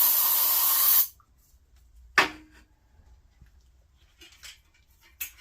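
Starter fluid sprayed from an aerosol can into a Vanguard 16HP engine with rust in its cylinders gives a steady, close hiss lasting about a second, followed by quiet with a few scattered clicks and knocks.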